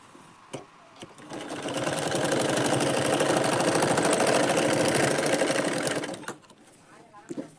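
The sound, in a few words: sewing machine stitching a blouse, basting stitch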